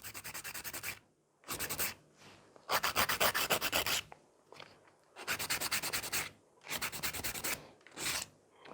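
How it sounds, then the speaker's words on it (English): Gel polish is filed off a fingernail in short, soft bursts of scratchy rubbing, about seven strokes separated by brief pauses, close up and quiet. "So I keep filing until really this piece falls off"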